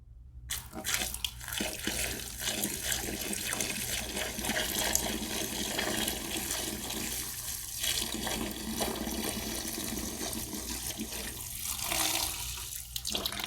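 Steady running-water sound, like liquid pouring or being disturbed in a container, continuous and fairly close throughout, fitting gym weights being submerged in cheap 9% vinegar, with no talking.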